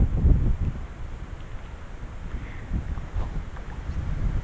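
Wind blows across a trout fishery lake on a summer day, a steady low rumbling buffet against the microphone with a stronger gust at the start and no voices.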